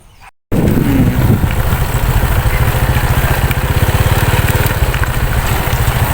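A motorcycle engine pulses steadily and close, the fast beat of its exhaust holding loud and even for several seconds after a brief quiet start.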